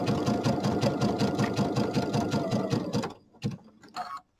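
A sewing machine runs a zigzag stitch along the binding of a fabric project bag, a close, rapid, even mechanical chatter for about three seconds, then stops, followed by a few short clicks and brief handling noises.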